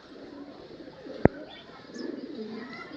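Soft low cooing from a pair of Pakistani-breed pigeons, murmuring steadily over a quiet background, interrupted once by a single sharp click partway through.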